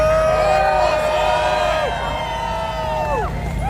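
Crowd cheering at a Freedom Convoy 2022 rally, loud whoops and shouts layered over a dense wash of voices, with whistling tones rising and falling throughout.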